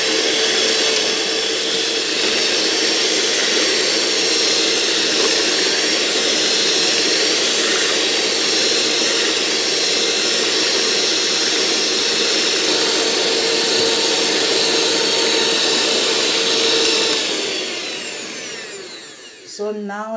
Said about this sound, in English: whisk for just 10 minutes. I'm gonna mix it all together.